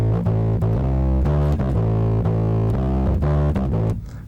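A bass guitar plays a minor blues groove, a repeating riff of plucked low notes with steady rhythmic pulses, close and clear with no voices.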